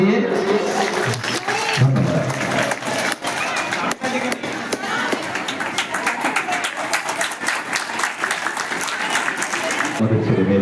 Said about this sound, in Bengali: আর একবার করতালি দিয়ে ধন্যবাদ